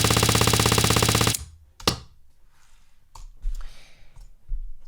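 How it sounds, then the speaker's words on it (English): A sound-effect machine gun fires a rapid, dense, loud burst lasting just over a second, then cuts off, leaving a few scattered clicks and soft thuds. "you can have a machine gun or rifle"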